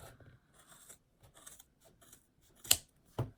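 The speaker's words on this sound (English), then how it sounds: "now I'm just going to cut here at the edge where I left off" Scissors snipping through wrapped yarn for a crocheted scarf fringe, soft scattered cutting sounds building to two sharp, close snips near the end.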